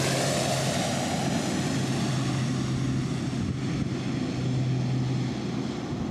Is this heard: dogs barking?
no